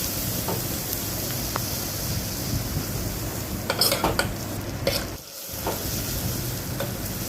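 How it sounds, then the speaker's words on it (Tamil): Stirring and sautéing in a pan with asafoetida added while cooking a sour-greens kadayal, a steady sizzle of frying with scraping stir strokes and a few utensil clinks, close and continuous with no talk. "பெருங்காயம் சேர்த்து நல்லா ஒரு கிளறி"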